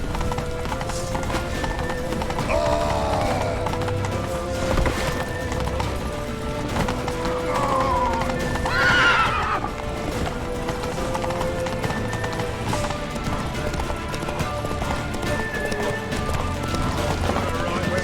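Video-game horses gallop with rapid, continuous hoof clip-clops, punctuated by a couple of loud whinnying neighs near the middle, all under a dense layer of game action and sporadic talk.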